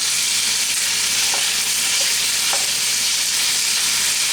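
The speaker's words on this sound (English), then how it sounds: "get a wooden spoon and try to break this up as best as you can" Ground beef sizzles steadily in a hot pan while a wooden spoon breaks it apart, giving a dense, continuous frying hiss with a few faint scraping taps.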